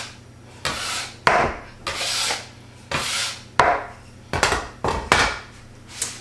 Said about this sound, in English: I'm just scraping up my little mess to clean me up a little bit